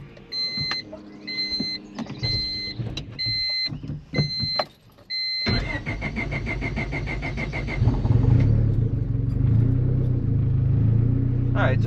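A built turbo D16 engine running on E85 fuel cranks with a few short starter bursts, catches after about five seconds, and settles into a loud, steady idle close by; a voice talks faintly under the early cranking.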